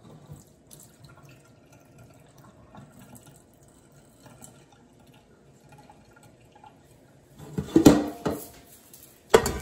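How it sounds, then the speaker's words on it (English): Water splashes briefly out of a cooking pot of potatoes into a kitchen sink, a short burst of pouring and a final splash after a quiet stretch of faint room noise, with no talking. "So I'm just going to empty out this little bit of water."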